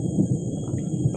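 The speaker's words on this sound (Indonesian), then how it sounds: "guntur atau petir teman-teman." Thunder rolls through the Kalimantan jungle as a steady low rumble, loud and continuous, with no voices over it.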